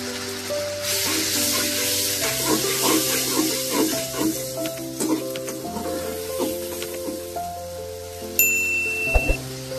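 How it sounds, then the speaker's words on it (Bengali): A paste of ground onion, cumin and garlic fries in a pan, sizzling softly while being stirred, with scraping clinks from a utensil and a tonal background hum. "আমি এবার এই মশলাগুলো সুন্দর করে ভেজে নিব"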